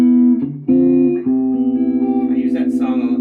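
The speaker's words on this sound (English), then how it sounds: "Round tone with the slap back and the reverb is really nice." A Yamaha SA2000 electric guitar plays sustained chords with a short slapback echo and a reverb wash, the ringing notes pulsing and shimmering as they fade.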